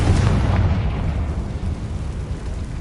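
Confringo spell blast in Hogwarts Legacy, a heavy booming explosion that hits hard at the start and then rumbles and fades over a few seconds.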